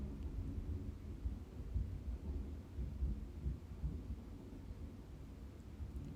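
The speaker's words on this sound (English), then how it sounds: "for those who like thunder" Thunder rumbles in a low, continuous, fairly faint roll with no talk over it, steady throughout.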